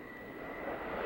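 A warplane at an air show drones overhead with a steady engine roar that builds slightly in loudness, moderately distant, with no talking over it.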